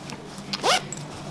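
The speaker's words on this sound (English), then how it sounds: "you have 1 internal pocket here, zippered pocket" A single quick zip pull on the internal zippered pocket of a Waypoint Catalyst field shirt, close and crisp, with a short rising rasp and no talk over it.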